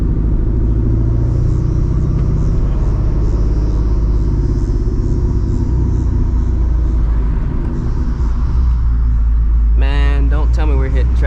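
A 500 hp Ford Mustang GT cruising in traffic, a loud continuous low engine rumble heard from inside the car, with a brief voice speaking near the end.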